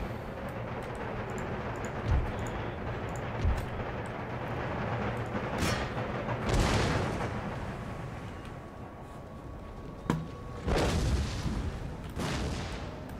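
Musket and artillery fire in the Empire Total War video game: continuous rumbling battle noise with several distinct booms and crackling volleys spread across the clip.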